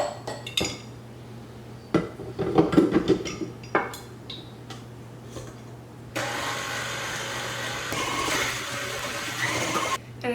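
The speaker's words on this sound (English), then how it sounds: "And I just mix my butter in with the sugar for a little bit until it's a little bit more incorporated" Butter and sugar are mixed together in a bowl, with a utensil scraping and knocking against the dish in uneven bursts, followed by a steadier, continuous whirring churn that runs to the end.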